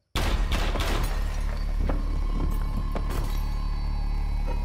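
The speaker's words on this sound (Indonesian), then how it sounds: "Berapa tembakan itu, guys?" A rapid burst of loud, close gunshots in the game Crime Scene Cleaner, several sharp cracks in quick succession followed by a few more scattered shots over a continuous rumbling background.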